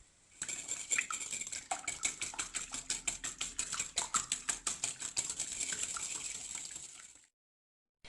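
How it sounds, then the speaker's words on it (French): Vegetable oil mixture whisked by hand in a bowl, a fast, even run of close, bright metallic ticks lasting about seven seconds before stopping. "Et demi-verre de l'huile végétale, l'équivalent de 80 millilitres, et je fouette manuellement."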